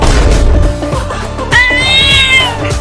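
A cartoon cat meows loudly and close, in a few drawn-out wailing cries, the last one high and sustained, set over a busy cartoon soundtrack.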